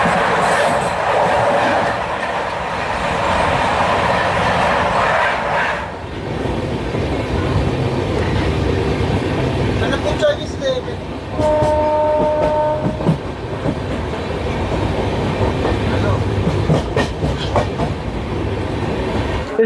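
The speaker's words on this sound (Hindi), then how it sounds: "कोरबा एक्सप्रेस, कोरबा सुपरफास्ट, तिरुवनंतपुरम से कोरबा के बीच चलने वाली।" Korba Superfast Express, running between Thiruvananthapuram and Korba in Maharashtra, rolls past with a loud continuous rumble and clickety-clack of wheels, and partway through its horn sounds in a couple of steady blasts over the din.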